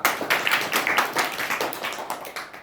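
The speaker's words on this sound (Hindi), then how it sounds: "ताली बजाओ।" Children in a first-grade classroom clap together in a brief burst of close, fairly loud applause that carries on steadily for a few seconds.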